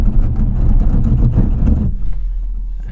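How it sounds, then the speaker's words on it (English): A 2022 Kia EV6 electric car braking hard from 60 mph to a stop, with loud low road and wind rumble that falls away as the car halts, leaving a quiet idle hum. "Let's do a quick 60 to 0 brake test."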